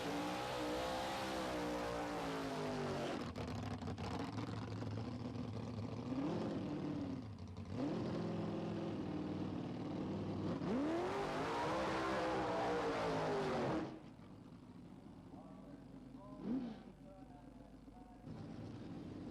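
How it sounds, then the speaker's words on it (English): Loud roaring drag racing cars with highly tuned V8, V6 or straight-four engines accelerating down the strip at Santa Pod in 1986, passing close by, rising and falling in pitch, then fading to a quieter distant rumble. "The sounds are absolutely ear-splitting as pair by pair the cars make their way down the strip."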